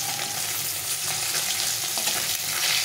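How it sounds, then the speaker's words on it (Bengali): A large fish head fries in oil in a pan, giving a steady, even sizzle and crackle that continues without a break. "তবে মুড়োটা একটু ভাজতে হবে"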